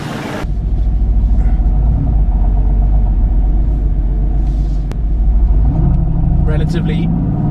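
A Mercedes-AMG GT S sports car engine idles and revs with a loud, deep, throbbing rumble that holds steady close by, dipping briefly before surging again.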